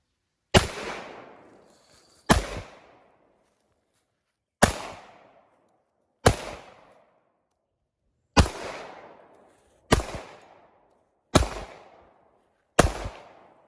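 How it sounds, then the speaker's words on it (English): Eight loud, sharp pistol shots from a 1913-made WWI-era Colt 1911, fired one at a time with irregular pauses of one to two seconds, each crack trailing off in a short outdoor echo, no talking. "we'll load them up and we'll shoot them one at a time"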